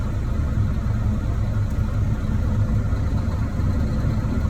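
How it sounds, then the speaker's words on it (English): A truck engine, hitched to a trailer, idles with a steady low rumble just before the rig pulls forward, the drone continuous and close with no voices. "For service brake, I'm gonna move my truck forward."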